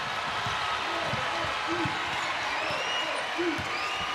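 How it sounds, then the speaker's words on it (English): Basketball crowd in a packed Bloomington arena roaring after Indiana ties the women's college game, a dense sustained cheer with whistles and shouts, while a commentator talks over it. "That wakes the crowd up once again."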